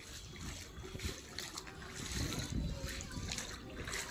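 Typhoon floodwater surrounding a court, a steady faint wash of trickling and splashing water, with people talking over it.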